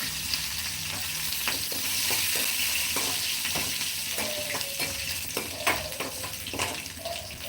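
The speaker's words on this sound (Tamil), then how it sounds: "உளுந்தம்பருப்பு பொன்னிறமாக வந்த உடனே அதுக்கடுத்து காஞ்ச மிளகா காஞ்ச மிளகா போடணும்" Dried chillies and urad dal sizzle and crackle steadily in hot oil for a Tamil mung bean kuzhambu, a continuous close frying hiss with scattered pops and light stirring scrapes.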